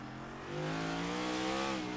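Race car engines in iRacing at the Detroit Grand Prix, a sustained droning whine that swells louder partway through and holds steady, with several layered engine tones and no voices.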